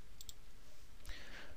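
A computer mouse clicks on the Run button in Microsoft Word's macro dialog: a faint, quick pair of clicks near the start, then a single soft click later against a quiet background hiss.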